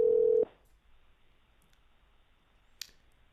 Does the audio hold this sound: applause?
no